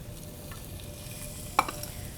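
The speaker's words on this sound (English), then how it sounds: "to the butter, we're gonna add some julienne white onion" Julienned white onion sizzling in butter in a pan, a soft steady fry close up, with a brief sharp clink of stirring partway through.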